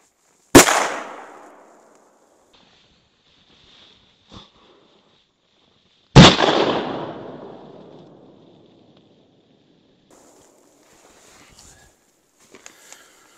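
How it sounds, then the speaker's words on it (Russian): Two sharp, loud blasts of URG training grenades about six seconds apart, each ringing out with a long fading rumble, followed by faint scattered noises. "давайте посмотрим, как взрываются данные гранаты"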